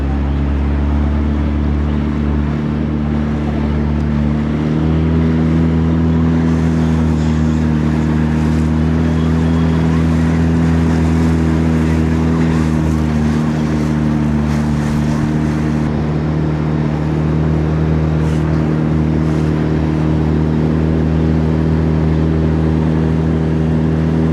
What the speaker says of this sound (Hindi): आज हम नाव पे राइड कर रहे हैं